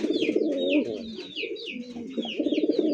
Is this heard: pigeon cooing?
yes